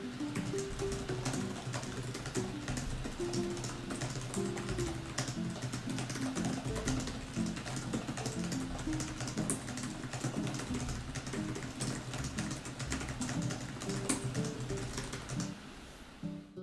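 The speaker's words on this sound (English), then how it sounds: "The keys have a soft responsive feel that's not too clicky but adequate enough for long typing sessions." Steady typing on a Nimo N173 budget laptop keyboard with soft, not very clicky keys, a dense continuous patter of keystrokes that runs on without pause, close up and alone over a faint background hum.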